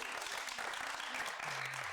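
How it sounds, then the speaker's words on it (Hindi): Studio audience applause on a talk show, a dense continuous burst of clapping at steady loudness that fills the short stretch. "तो मेरे लिए तालियां."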